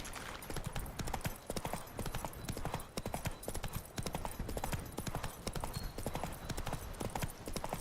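Horse hooves clip-clop steadily and close in The Witcher 3, a continuous rhythmic trot with an occasional faint whinny and no speech over it.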